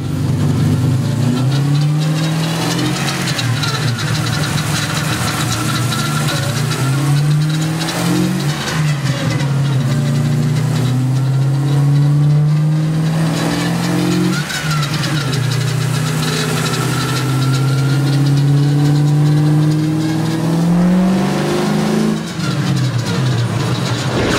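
A supercharged LS7 427 V8 in a 1969 Camaro revs hard on a dyno, its engine note climbing and falling in repeated loud pulls with a steady roar and no talking.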